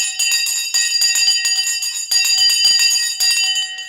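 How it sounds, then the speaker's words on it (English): The stock market opening bell rings loudly and continuously, a bright metallic clanging with rapid repeated strikes and sustained ringing tones that briefly dip and resume. "The bell has gone."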